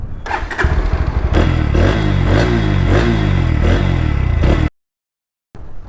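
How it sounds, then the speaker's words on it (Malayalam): A 2023 Bajaj Pulsar NS160 motorcycle exhaust, a loud close engine start followed by several sharp revs, then a sudden cut to silence. "എക്സോസ്റ്റ് സൗണ്ട് നോക്കാം കേട്ടോ."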